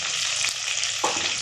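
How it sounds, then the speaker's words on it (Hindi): Potato pieces deep-fry in hot oil for a Sindhi potato biryani, a loud, steady bubbling hiss with a brief scrape near the end, close and without speech. "आलू फ्राई हो गए, अब हम इनको निकाल लेंगे, ऑयल में से निकाल लेंगे इन्हें"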